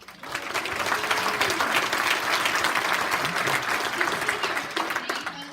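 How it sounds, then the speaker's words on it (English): A town hall audience at a college with state lawmakers breaks into applause, rising quickly and then holding as a steady, fairly loud wash of clapping from many hands. "Another round of applause for them, if you will."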